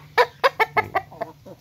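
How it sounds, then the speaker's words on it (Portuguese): A Brahma rooster clucks in a quick run of about six loud, close harmonic calls, spaced evenly at first and then trailing off into a couple of softer clucks. "Ele é filho do galo Brahma, ele é filho do galo Tonho Brahma."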